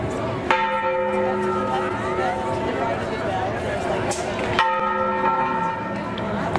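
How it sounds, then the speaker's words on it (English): Church bells ring out from the parish church in San Miguel de Allende, Mexico, on a busy Friday night, two loud clanging strikes several seconds apart with long humming decay, over a murmur of crowd chatter and voices. "you'll hear the bells ringing from the parochia"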